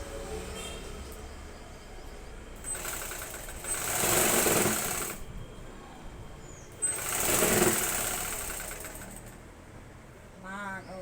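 A sewing machine stitching cloth at a beginners' tailoring class, running in two separate close bursts of rapid rhythmic whirring with quieter pauses between them, while someone talks over it.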